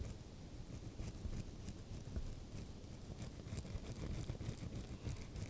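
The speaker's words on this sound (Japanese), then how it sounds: "歯ブラシの毛先が広がらない程度に動かします" Toothbrush bristles scrubbing teeth in a close, quiet ASMR dentist roleplay: a continuous soft, rapid scratching patter with short brushing strokes, intimate and low in volume.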